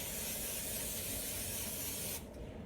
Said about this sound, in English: Then I'm going to take Pam and spray it.